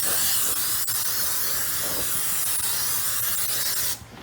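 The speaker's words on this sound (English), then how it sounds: "I'm going to take this and I'm going to spray this really generously" Cooking spray hisses steadily and close into a bundt tin for about four seconds, a continuous broadband spray that stops abruptly at the end.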